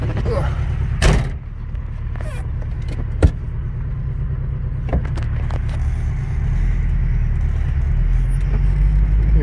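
A 1980 Subaru Brat's boxer engine runs with a steady low, even drone throughout. A door-like thump and a sharp knock stand out near the start, and faint talk may sit underneath.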